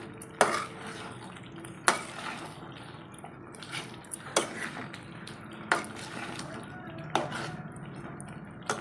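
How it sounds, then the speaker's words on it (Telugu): Chicken and masala are stirred together in a pan with a little water, giving periodic sharp clinks of a utensil against the pan every second or so over a low wet, sloppy mixing sound. "ఈ చికెన్లో నేను మసాలాలో ఇదంతా ఒకసారి కలిపేసుకుంటున్నాను"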